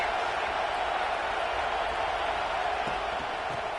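A football stadium crowd cheers as a steady, distant roar that holds at an even level throughout, with no distinct peaks or individual voices standing out.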